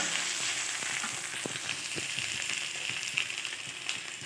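Taro leaves fry in a pan with onion, garlic and cumin powder, crackling in a steady soft sizzle while a utensil stirs them with occasional light scrapes and taps.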